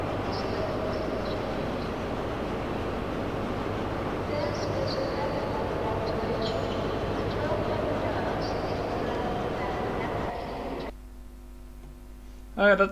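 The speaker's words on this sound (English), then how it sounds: "I hope you enjoy driving the new measurement train" A measurement train running in a train simulator game, a steady rumbling drone of engine and rails held for about ten seconds before cutting to a quiet hum and a brief final bump.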